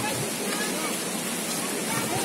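Pachara waterfall roars in a constant, dense wash of flowing water, steady and fairly loud throughout with no pauses.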